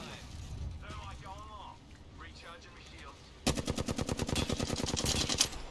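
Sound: gunfire in Apex Legends video game

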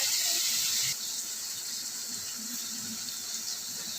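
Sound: water poured into pan of pointed gourd poppy seed curry

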